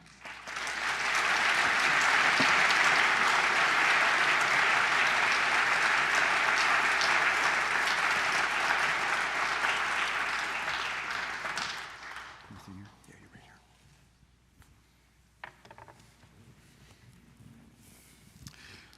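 Lecture-hall audience applauding to welcome two law professors, a loud sustained round of clapping that swells quickly, holds for about ten seconds, then thins out into scattered claps and room noise.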